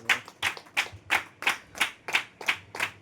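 Nine sharp, evenly spaced hand claps ring out in a steady rhythm, close and crisp with brief decays between them.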